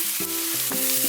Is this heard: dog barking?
no